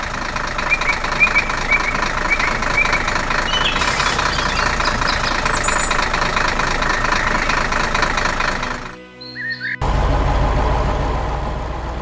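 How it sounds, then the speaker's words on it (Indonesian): A heavy tractor engine works in a forest, running steadily with a rough, knocking rumble, cutting out for a moment near the end, then returning just as loud. "Traktor sedang bekerja keras di hutan."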